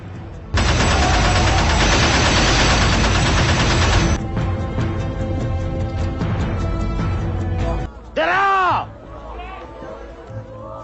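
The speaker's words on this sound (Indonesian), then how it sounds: "pasukan Jepang mendatangi Tebu Ireng dan menakuti para santri dengan tembakan senjata mesinnya" Japanese troops firing machine guns at Tebuireng: dense, loud bursts of gunfire with shouting voices, followed by rattling crowd noise and a short burst of dramatic sound, in a film-style war scene.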